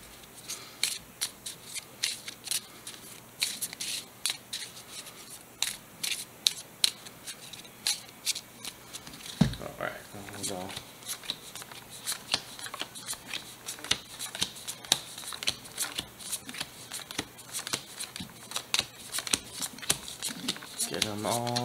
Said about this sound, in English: Alright, let's get these cards shuffled up.